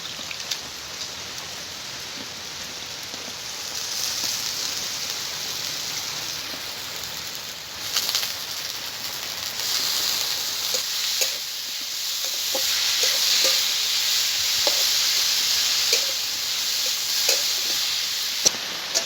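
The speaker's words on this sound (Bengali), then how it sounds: "মশলার সঙ্গে আলুটাকে আমি ভালো করে ভেজে নেব।" Grated potato frying and being stirred in an oily spice paste for egg paratha filling, a steady bright sizzle with occasional scraping stirs, growing slightly louder partway through, with no talk.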